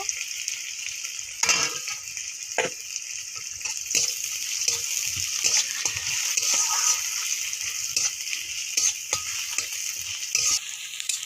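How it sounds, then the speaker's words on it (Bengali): Onion and crushed garlic fry in a pan with a steady, close sizzle that carries on throughout, broken by repeated scrapes and knocks of stirring. No voices are heard. "পেঁয়াজ আর রসুনটা ভালো করে ভেজে নিয়েছি"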